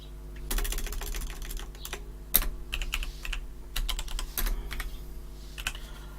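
Fingers type on a computer keyboard in irregular bursts of close, crisp key clicks, with one louder keystroke partway through, while a steady low hum runs underneath and no one speaks.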